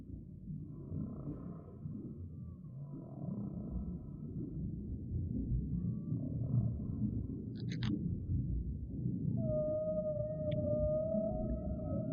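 Low, rumbling underwater noise carries drawn-out whale calls, moaning and rising tones with a few high squeaks, faint and distant.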